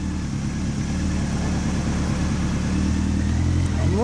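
A Honda VTR250 motorcycle fitted with a Mugen aftermarket muffler runs steadily at idle after starting, a close, continuous low engine drone with a faint rise near the end and no talking.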